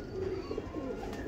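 A pigeon coos in a low, rolling murmur, steady and close, with faint background hiss and no voices.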